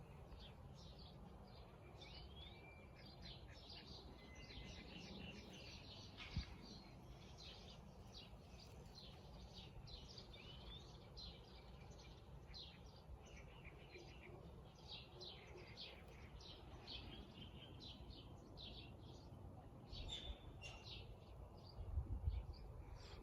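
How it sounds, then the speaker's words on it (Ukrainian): Many birds chirp and twitter steadily in the open air, a dense overlapping chorus of short high calls with faint low background rumble. "пташки співають."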